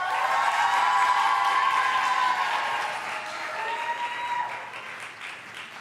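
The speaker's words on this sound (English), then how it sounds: "Please give Jenna another round of applause" Audience at an open mic night applauds warmly after a poetry reading, sustained clapping from a roomful of people that gradually thins out.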